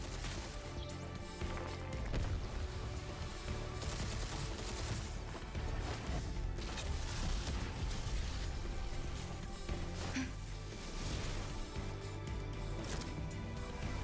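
Gunfire from a character's gun in a video game, with bursts and rapid shots layered over busy game music and effects, steady and fairly loud from start to finish.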